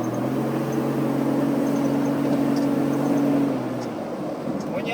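An off-road vehicle on 37-inch tires with an upgraded motor runs with a steady, droning low hum that eases slightly in pitch and level near the end.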